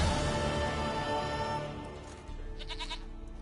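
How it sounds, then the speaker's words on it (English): Goat bleats in The Witcher 3 video game, a short cluster of bleats near the end rising over a dense backdrop of game music and ambience. "Goat of mine, dearest,"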